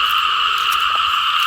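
Frog croaking in the rainy season, a loud, dense continuous chorus close by with no other sounds.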